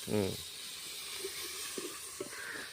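A handful each of mint and coriander sautés gently in oil over a clay stove for mutton biryani, a steady soft hiss with a few faint pops after a brief voice at the start.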